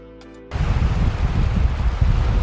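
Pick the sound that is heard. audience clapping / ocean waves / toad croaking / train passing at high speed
ocean waves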